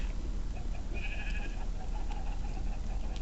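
A pet sheep in Minecraft gives one short, fairly faint bleat over a steady low hum, followed by quieter indistinct sounds.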